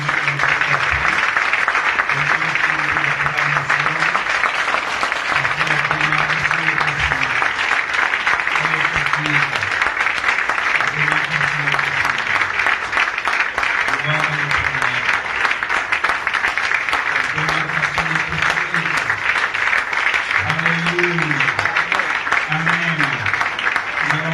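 A church congregation applauds the Lord in worship, a dense, continuous wash of clapping sustained for the whole stretch while a voice keeps speaking over it in bursts.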